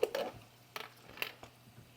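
A spoon scrapes and clinks against a bowl while a meal is mixed after training: a few quiet, separate taps and scrapes close by, with near silence between them.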